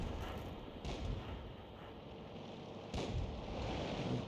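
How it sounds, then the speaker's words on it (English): 105 leFH18B2 artillery gun in a video game firing HEAT rounds, two heavy booms roughly two seconds apart over a rumbling low background, fairly faint overall. "he's still firing the heat rounds when he should be firing HE"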